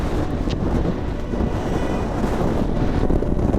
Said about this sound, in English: It is just so windy.